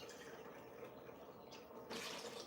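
A cup of water pours into a pot while a banana, tapioca and coconut cream dessert is made, a soft continuous splashing and trickling that grows a little fuller near the end.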